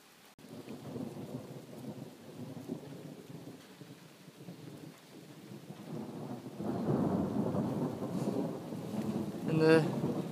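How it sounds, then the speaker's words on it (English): Outdoor thunderstorm with steady rain and rolling thunder, a low rumble swelling louder partway through over continuous rain hiss, heard from a distance without talk. "Thunder and lightning."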